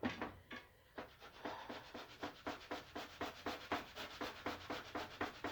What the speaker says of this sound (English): It's filling up this grater.